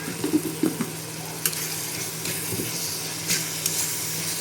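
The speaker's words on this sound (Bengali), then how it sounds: "সব কিছু দিয়ে একটু কষিয়ে নিব" Ginger, garlic and chili paste with turmeric is stirred and fried in a pan, producing a soft, steady sizzle broken by a few scraping stirs, close and fairly quiet.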